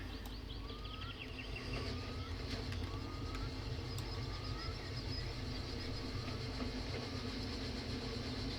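A train shunting slowly around a museum yard in Train Simulator, with a steady low engine rumble, wheel squeals and scattered clanks and clicks, continuous and fairly close with no talk.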